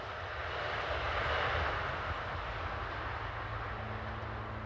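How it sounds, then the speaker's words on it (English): Locomotive number 11267 heading east on a European railway, a broad, steady rumble and roar that holds at a constant level throughout, close and fairly loud, with a faint low tone underneath. "Heading east on the 3rd of June 2014 is locomotive number 11267."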